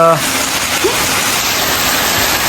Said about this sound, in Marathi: आणि असा पाऊस पडतोय मस्त मस्त